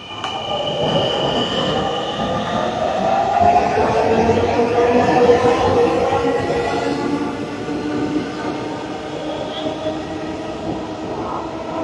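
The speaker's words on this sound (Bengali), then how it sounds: "এই ট্রেনটাতে যেটা মতিঝিলের দিকে যাচ্ছে" A Dhaka metro rail train heading toward Motijheel rumbles along at close range, its wheels squealing and humming steadily. The sound swells in the middle, then eases slightly.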